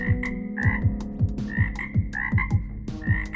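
Frogs croak in a rapid, regular chorus, loud and close, with repeated pulsing calls overlapping and no voices present.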